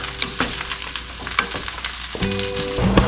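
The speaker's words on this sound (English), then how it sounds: "Give it a little stir." Salmon tail pieces sizzle steadily in a hot pan while being stirred, with close scraping and clattering over the constant frying hiss.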